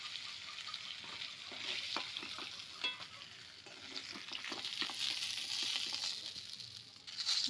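Rohu fish pieces frying in oil in a pan, a steady close sizzle with repeated scraping and stirring clicks throughout, no voices.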